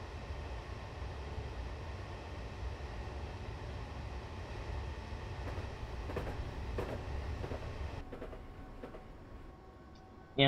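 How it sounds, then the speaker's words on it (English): Rumbling train interior from Train Simulator 2018 on the Brighton Main Line, a steady low roar with faint clicks, the tone shifting and thinning near the end as the train passes through a tunnel, with no talking. "Yeah, that was a tunnel sound"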